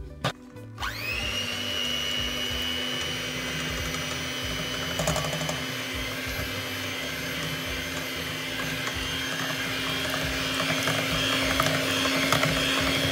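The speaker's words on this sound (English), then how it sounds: "Whisk it well till it forms soft peaks like this." An electric hand mixer whisks 400 ml of thickened cream toward soft peaks for no-churn ice cream, a steady high motor whine starting abruptly after a brief clatter and running loud and unbroken throughout.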